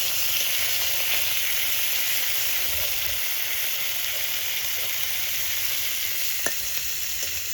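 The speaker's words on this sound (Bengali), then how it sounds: "লাল লাল করে মাছ ভেজেছি" Pieces of rohu fish fry in oil, a loud, dense, unbroken sizzle that holds steady throughout with no voices. A single faint click sounds near the end.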